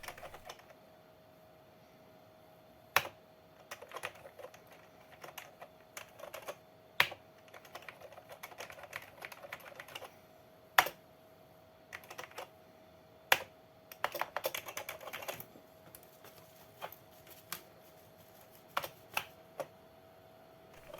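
Keys clack on the keyboard of a retro 486 PC with a faulty keyboard controller, sharp isolated presses and short irregular bursts over a steady faint electrical hum, with no voices.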